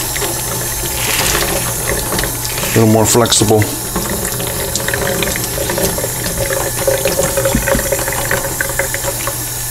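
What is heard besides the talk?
tap water running to soak sausage casing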